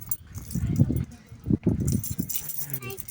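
Keys jangling and rattling at close range in a home setting, in short metallic bursts over and around voices talking.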